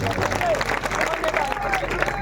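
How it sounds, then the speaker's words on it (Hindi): Audience applause at an Urdu poetry recital, a brief burst of scattered clapping mixed with crowd murmur and voices, fairly close and loud over room noise. "क्या इस पर इतनी कम तालियां आनी चाहिए?"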